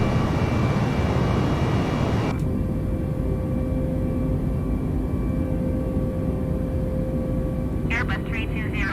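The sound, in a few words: Airbus A320neo airliner climbing after takeoff, Microsoft Flight Simulator video game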